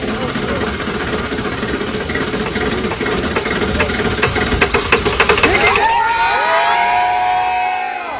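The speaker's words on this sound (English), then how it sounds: "the first ever Ford F-250 to run off of plastic waste" Ford F-250 truck engine running on fuel made from plastic waste in Chicago, idling with a steady knocking rumble, then cheering and whistles take over near the end.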